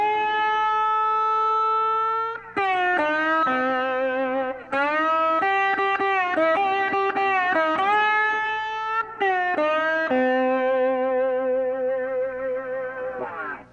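An electric slide guitar plays a lick, gliding between sustained notes with vibrato over several phrases, loud and alone without talk.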